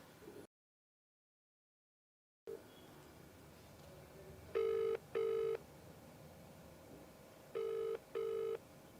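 An outgoing call being placed on a telephone, with a faint line hiss followed by two pairs of ringback tones in a double-ring pattern, clear and moderately loud against the quiet background.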